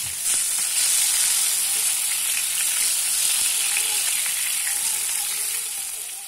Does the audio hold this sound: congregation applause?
no